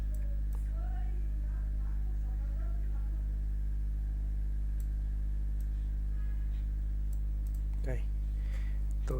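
Faint, scattered key clicks from typing on a computer keyboard sit over a steady electrical hum, with a voice speaking briefly near the end.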